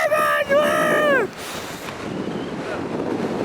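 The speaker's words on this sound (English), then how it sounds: "It's a little windy!" Wind roars and buffets the microphone atop Conic Hill overlooking Loch Lomond, a loud continuous rushing that follows a brief excited shout from a voice.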